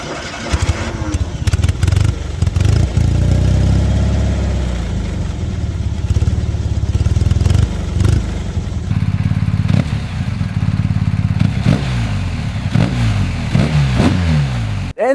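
A BMW S1000XR motorcycle's inline four-cylinder engine runs loud and close, idling with a rough rumble before revving in several sharp rising bursts toward the end.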